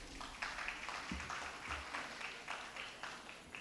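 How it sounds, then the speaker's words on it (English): An audience applauds a speaker being welcomed at an event on embedded systems and digital design, the clapping faint and steady across the whole stretch, heard from a distance in a room. "Let us have a big round of applause for him."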